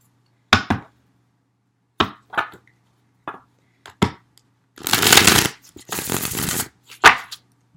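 A Rock Art Tarot card deck is handled and shuffled up close, with sharp separate taps and slaps followed by two longer riffling shuffles and a final snap.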